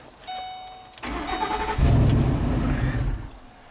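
A car engine cranks on the starter, a short whir and then a louder sustained grinding crank that keeps going without clearly catching, close and loud, with no talking.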